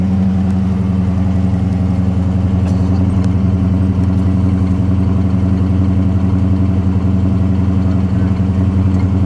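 A 1965 Mercury Comet Cyclone with a 289 V8 idles close by, a steady, loud, low rumble with an even lope that holds unchanged throughout.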